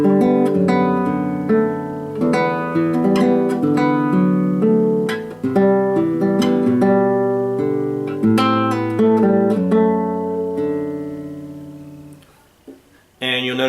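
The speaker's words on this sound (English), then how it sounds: "I've done that, where I'm arpeggiating chords to make the arrangement sound fuller." Musical arrangement with arpeggiated chords, a melody and a moving bass line, playing clearly and steadily as notes ring in overlapping patterns before it stops near the end.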